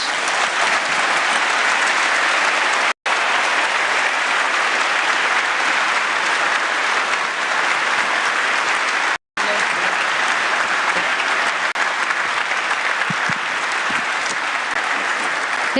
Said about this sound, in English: it deserves a round of applause indeed.